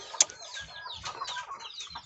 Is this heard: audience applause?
no